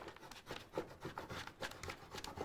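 A plastic scraper tool rubs across vinyl as the backing is peeled away for a custom notebook, making quiet, repeated scratchy strokes in an uneven rhythm, close and alone.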